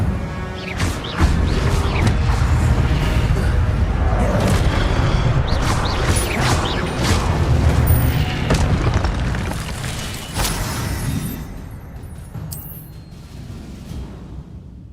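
Spell-casting effects for Incendio and Protego in Hogwarts Legacy, a dense, loud stretch of booming magical bursts, crackling impacts and whooshes layered continuously, with combat clashes and a brief bright chime near the end.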